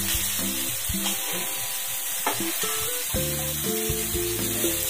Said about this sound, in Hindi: सिंगदाना इसको अच्छी तरह से मिक्स कर लेंगे।